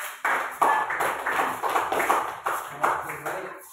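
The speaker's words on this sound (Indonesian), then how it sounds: "Beri aplaus." Audience clapping in a classroom-style teaching session, a rapid patter of hands with repeated surges, sustained for a few seconds at moderate loudness.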